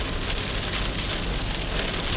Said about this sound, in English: So if you can mind the loudness of the rain.